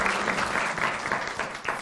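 Applause from an audience in a hall at a university talk show in Kazan, a brief, loud burst of clapping with a few sharper claps standing out as it gradually thins.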